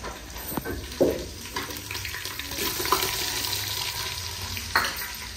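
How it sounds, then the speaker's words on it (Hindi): Onions frying and browning in hot oil in a pan, a close, continuous sizzle with occasional stirring clatters, no talk. "प्याज मैंने ऐड कर दिया है, इसको जो है ना ब्राउन करते हैं"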